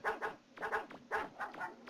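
Aggressive wild dogs in Mega Man 64 bark in quick bursts, several sharp yaps in pairs with short gaps, close and fairly loud.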